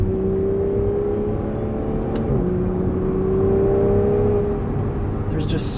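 A 2015 Aston Martin Vanquish engine pulling hard from inside the cabin, a steady deep rising drone that holds loud and smooth throughout with no one speaking over it.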